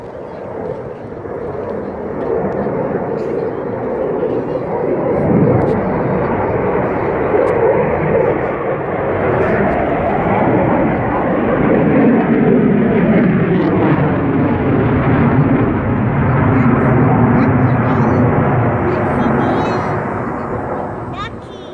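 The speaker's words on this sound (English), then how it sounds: "Nobody likes to hear the loud airplanes." A loud airplane roars overhead at a small zoo for the whole stretch, its engine noise swelling and slowly fading, with faint voices underneath.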